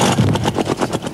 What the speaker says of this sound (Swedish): motorn hackar!